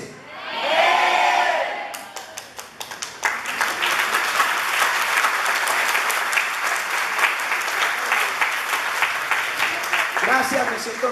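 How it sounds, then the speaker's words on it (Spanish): A church congregation breaks into sustained applause with some cheering, starting at close range and swelling into a dense, steady clapping that fills the space, while a voice is briefly heard at the start. "Gracias, me siento honrado con sus aplausos."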